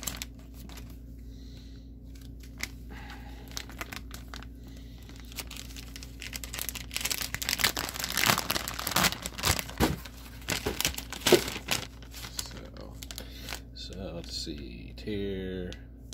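Crinkly plastic rustles and tears in bursts as a US MRE ration heater packet is ripped open up close, with brief handling noises between.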